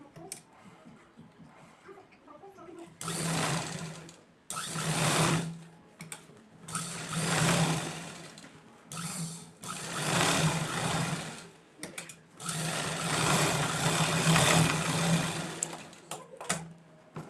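Sewing machine stitching saree fabric into a one-piece dress, running in bursts of a few seconds with short stops between, a close, steady mechanical whir.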